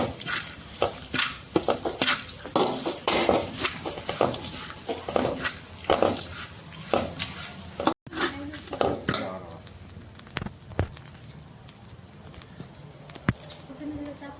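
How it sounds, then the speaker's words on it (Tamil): Grated coconut being stirred into cooked rice in a pan, repeated close scraping and tapping strokes of a ladle in an irregular rhythm, with a voice talking over much of it. "தேங்காய் சாப்பாட்டை தேங்காவை போட்டு கிளறுறோம்"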